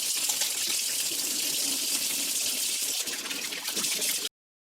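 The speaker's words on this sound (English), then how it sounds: "before we handle food, we always need to wash our hands with soap" Hands washed with soap under a running kitchen tap before preparing food: a steady, close hiss of flowing water with faint rubbing and splashing, cutting off abruptly near the end, no talk.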